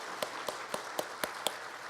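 A church congregation at a Sunday service claps in a slow, steady beat, about six distinct claps, fairly soft and somewhat distant, with no voices.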